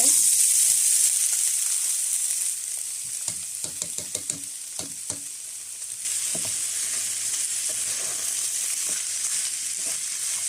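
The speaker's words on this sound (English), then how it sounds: "I'm going to stir fry this for about 2 minutes on medium heat" Rice stir-fries in a pan over medium heat, a steady loud sizzle with a cluster of scraping, stirring knocks in the middle, close up and without talk.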